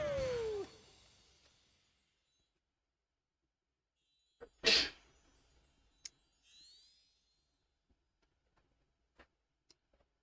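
A single sharp human sneeze bursts out near the middle, loud and brief, amid an otherwise quiet room with a few faint ticks and small clicks before and after.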